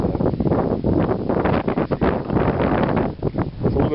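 Outdoor wind buffets the microphone in a continuous, loud rushing roar that swells and dips slightly over a few seconds, with no voices.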